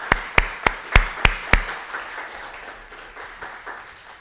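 A few sharp, evenly spaced handclaps ring out up front, then give way to a softer, scattered round of audience applause that continues at a lower level at a talk event.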